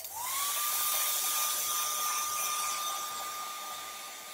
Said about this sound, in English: Gonna take that hair dryer again.